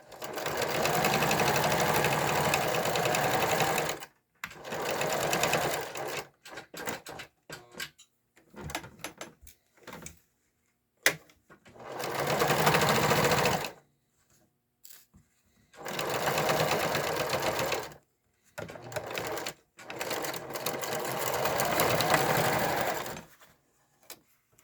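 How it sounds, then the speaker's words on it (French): A sewing machine stitches a zigzag seam around a small coin purse made from recycled denim jeans, running in several loud bursts of a few seconds each, separated by short pauses and quiet handling sounds. "j'aime mieux faire mon petit zigzag à la machine"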